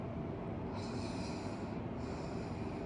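Ujjayi breathing, a constricted ocean-like breath, rasps as a long steady whooshing hiss close to the mic, continuous with no voice over it.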